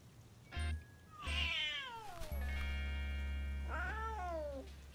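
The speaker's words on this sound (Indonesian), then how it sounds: "Anak kucing itu mengejutkanku." A kitten meows several times, high and wavering calls with pauses between, over a steady low hum in the background.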